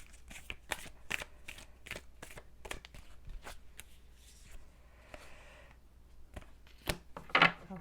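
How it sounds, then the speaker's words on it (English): A tarot deck gets shuffled close up: a burst of rapid papery riffles and taps, then a brief softer rustle, and a few sharp card snaps near the end, with no talking. "Two more shuffles"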